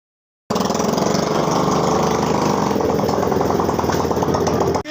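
A motorcycle engine idles close by with a steady, rapid chugging putter that runs continuously after an abrupt start, with no talk over it.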